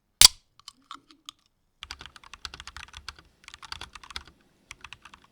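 Rapid clacky keystrokes on a Lorgar Azar 514 mechanical keyboard, coming in bursts with short pauses, close and clear, after one sharp louder click at the start.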